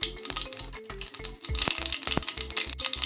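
Mustard seeds and cumin hitting hot oil for an onion sabji, giving a steady crackling sizzle with rapid popping pulses and a couple of sharper clinks, close and fairly quiet.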